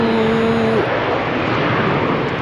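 A Transavia airliner bound for Salzburg roars steadily at Amsterdam Schiphol Airport, a broad jet rumble with a fading whine, moderately loud and with no voices.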